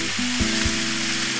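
Potato and cabbage frying over a high flame while being mixed in the pan: a steady, bright sizzle with a low hum underneath and a couple of soft stirring knocks near the start.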